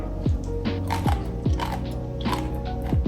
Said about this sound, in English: This is dry radish kimchi. Very thin and very crunchy. I'll take a bite.